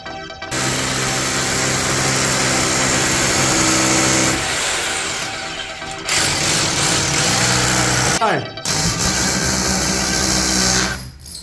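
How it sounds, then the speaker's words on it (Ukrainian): A long drill bit bores through a concrete ceiling slab in loud, sustained bursts with short pauses between them, with grinding, rattling tool noise close by. "Окантовочка таким довгим сверлом"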